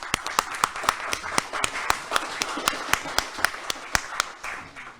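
Sparse, rhythmic clapping from a small group at a Ramadan quiz award ceremony, distinct individual claps at a steady pace that thin out and fade near the end.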